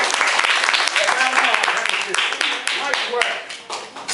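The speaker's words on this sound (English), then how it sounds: "Round of applause." Armory audience applause fills the space, a dense wash of many hands clapping at once, with a few voices calling out over it.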